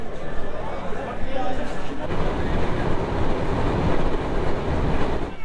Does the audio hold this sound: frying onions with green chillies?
no